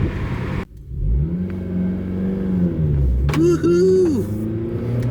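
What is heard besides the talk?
2008 Honda Civic Si accelerating with VTEC engaged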